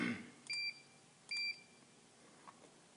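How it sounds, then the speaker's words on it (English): Two short, clean electronic beeps from the first-punch alarm of an Edwards 55-ton ironworker's CNC backgauge prototype, evenly spaced and quiet against a faint room hum. "So you can customize the first punch alarm to whatever you want to listen to."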